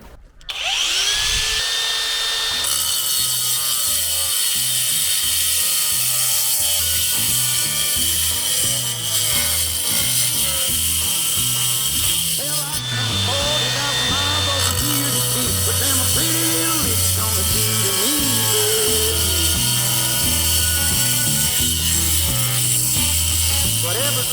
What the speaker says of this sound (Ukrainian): Так, тепер попробуємо, як бруківку ріже.